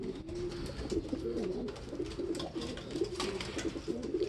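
A recovering pet bird, off its food for two days, coos in a low, repeated warbling rhythm close by, over a noisy background of rustling and clatter.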